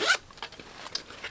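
A zipper on a thrifted bag rasps open in one quick, close pull at the start, followed by faint handling rustles.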